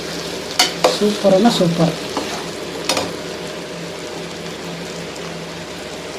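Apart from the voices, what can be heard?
onion frying in pan for egg pulao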